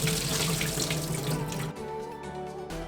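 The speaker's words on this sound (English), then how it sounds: "And then we're gonna fill up the pan with water, like so." Tap water runs steadily into a cooking pan, loud and close, with the splashing changing pitch as the pan fills before the flow cuts off briefly near the end.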